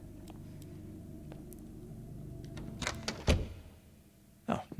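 A door in the horror video game Post Trauma opens with a few heavy thunks and a creaking slide, followed by a final bang, over a low ambient hum.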